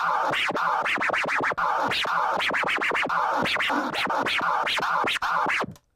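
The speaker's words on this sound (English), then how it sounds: "the baby scratch," Rapid, rhythmic turntable scratching, a baby scratch with quick back-and-forth record strokes repeating steadily and loud, no voices.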